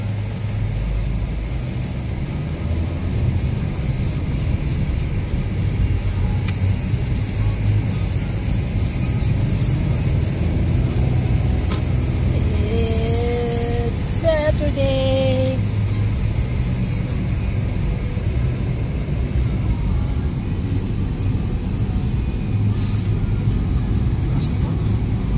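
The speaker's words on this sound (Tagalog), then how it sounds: "It's Saturday traffic." Saturday road traffic in a busy city street: a steady low rumble of passing cars and engines throughout, with a brief higher horn-like tone midway, continuous and fairly loud.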